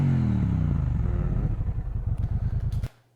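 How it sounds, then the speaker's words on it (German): A warm Triumph motorcycle with a stock exhaust idles in neutral close by, its loud rumble settling into a steady, rapid pulsing beat before the engine is cut off abruptly near the end. "Und da ich jetzt schon eine kleine Runde gefahren bin und der Motor auch schon warm ist, können wir jetzt mal einen kleinen Soundcheck machen."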